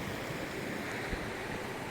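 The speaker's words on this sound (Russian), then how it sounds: "Вот так вода, кстати, 2 дня прошло с тех дождей, течет с гор." Rainwater flows down a concrete mountain channel in Mersin, Turkey, two days after heavy downpours, heard as a faint, steady, distant rush mixed with wind noise.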